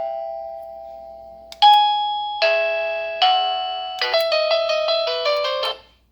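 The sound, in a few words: Wuloo intercom doorbell tone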